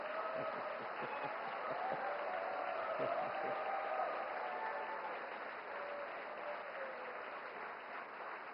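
Applause from a seated audience at the India Today Conclave 2024, a moderate, fairly distant patter of clapping that holds steady for several seconds before thinning slightly toward the end.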